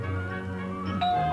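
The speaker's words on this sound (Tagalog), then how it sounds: "Narinig namin ang pagtimbre mo" A two-tone doorbell chime rings out clearly over a steady background hum, with a bright sustained tone lingering near the end.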